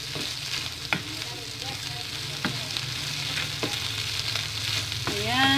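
Hotdog sisig sizzles steadily in a pan while being stirred, with a constant broadband frying hiss and a few sharp scrapes and clinks of the utensil at irregular intervals, close and moderately loud with no talking.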